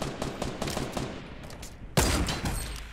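Fortnite Battle Royale gunfire crackles in rapid bursts of close shots, pausing briefly before a louder, denser volley breaks out near the end.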